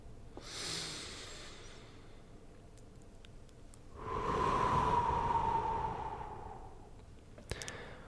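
Slow, deep breaths during a relaxation exercise, heard close and soft: a long exhale-like rush early, then a stronger sustained breath in the middle, with a few faint clicks and near silence between.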